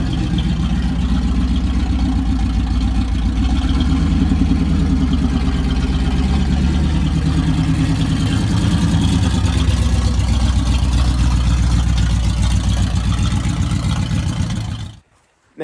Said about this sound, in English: I had open exhaust manifolds on it, so it was pretty loud.